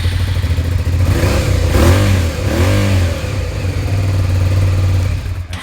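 A Suzuki SV650 motorcycle's rebuilt engine revs up and settles back several times, a loud, close throttle-blipping roar over a steady rumble with no voices.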